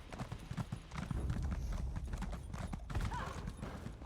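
Rapid hoofbeats of a galloping horse in the video game The Elder Scrolls Online pound steadily throughout, loud and close, with a brief whinny-like sound near the end.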